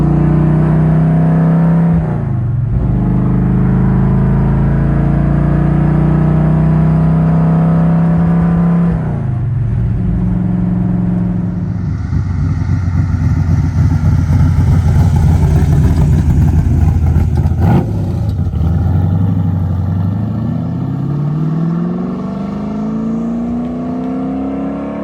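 A 1955 car engine running as it is driven down a driveway, a steady low drone with several rises and falls in revs, loud and close throughout with no talking.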